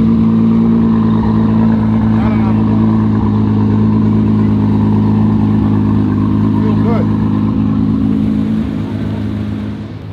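A built Nissan GT-R R35 and a BMW M340i in a street race give a loud, steady, droning engine roar held throughout, easing off slightly at the end.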